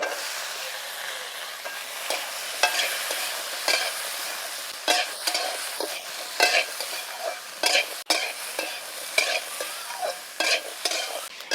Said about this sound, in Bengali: এবার লঙ্কাটা একদম নরম করে ভেজে নেব